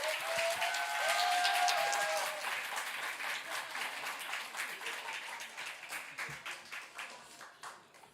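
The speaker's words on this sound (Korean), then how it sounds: "우리 박수로 우리 목사님 맞이하도록 하겠습니다." Church congregation applauding to welcome a missionary to the pulpit at a Friday prayer meeting, a broad steady wash of many hands clapping that swells early, then gradually thins and trails off into scattered claps.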